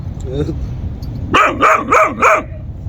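A Kangal dog barks four times in quick, evenly spaced succession, loud and close, following a stretch of quieter murmuring voices.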